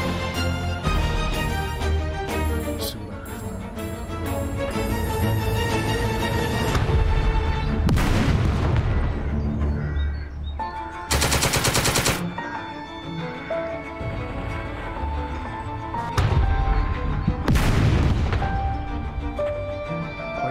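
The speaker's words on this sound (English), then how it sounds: "So this has a light machine gun. This is the fire phase," Light machine gun fire and heavy booms from the Second Front war game fill a continuous loud battle mix, with repeated sharp blasts and crashes layered over game music and effects.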